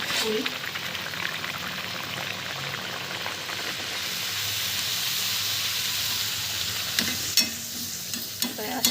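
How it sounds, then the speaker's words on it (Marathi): Puri deep-frying in hot oil, a steady bubbling sizzle running through the whole stretch with occasional clinks and stirring sounds, while a voice talks over it. "तेल तापलं आहे आता पुरी तळून घे आता तेलात पुरी"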